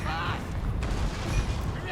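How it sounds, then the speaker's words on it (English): Mortar fire during a battle in the video game Total War Warhammer, a continuous rumble of booms and distant blasts under dense battlefield noise, with no clear separate shots. "Wow, those mortars."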